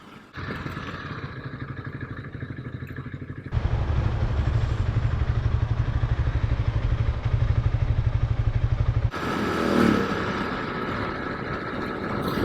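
A small motorcycle riding southbound on a Washington highway, with a steady engine drone and wind roar that shifts in tone as gears and speed change, loud and close throughout.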